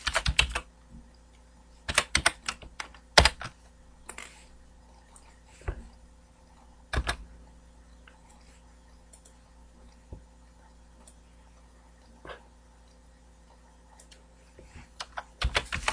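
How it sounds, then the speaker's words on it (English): Typing on a computer keyboard comes in short sharp bursts of key clicks separated by long quiet gaps, close and fairly loud against a faint room hum. "I can't seem to type today"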